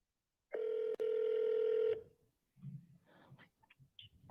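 A telephone line gives a single loud, steady electronic tone lasting about a second and a half before cutting off, followed by faint scattered clicks and line noise.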